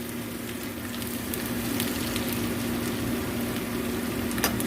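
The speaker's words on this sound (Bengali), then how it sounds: "মিনিট ধরে পেঁয়াজটা ভাজছে চাঁদনি।" Onions frying in a pan give a steady, close sizzle that runs throughout with faint crackles and no voices, in a home kitchen while keema ghugni is being cooked.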